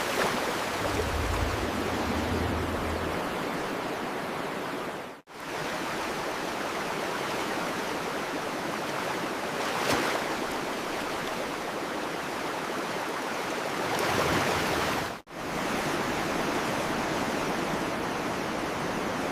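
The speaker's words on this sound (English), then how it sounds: "The massive bear steps into the freezing rapids." Freezing mountain river rapids in the Caucasus rush in a dense, continuous roar. The sound is loud and close throughout, with two brief dips in the flow and no voices.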